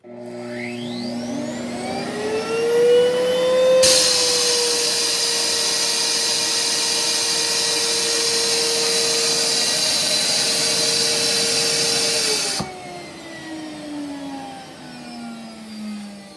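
An Electrolux central vacuum system starts with a rising whine that settles into a steady loud suction roar and motor hum, then the roar cuts off abruptly and the pitch slowly winds down; no talk.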